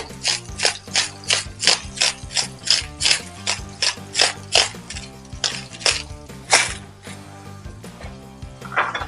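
A salt grinder being twisted to season Brussels sprouts, giving a run of evenly spaced ratcheting clicks, loud and close, with no talk.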